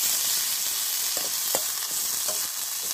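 Chopped garlic, chilli and onion fry in a pan with a constant bright sizzle, while a spoon scrapes and stirs in a few soft knocks, close and steady throughout.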